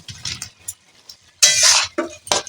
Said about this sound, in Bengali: এটাকে এইভাবে একটু নাড়াচাড়া করব